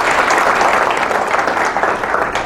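Audience applause at a city State of the City address, dense and steady clapping from a crowd, loud and close throughout with no speech over it.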